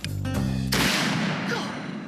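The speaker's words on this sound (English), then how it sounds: "we're just gonna go ahead and shoot the cannon" A cannon fires outdoors as a wake-up call, one loud, sharp blast followed by a long fading rumble and echo, preceded briefly by a tonal buzzing hum.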